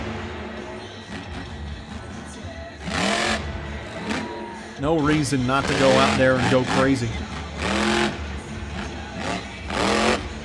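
Monster truck engine at Bristol Motor Speedway roaring and revving in loud repeated bursts as the truck floors it around the track, with excited commentary talking over the engine.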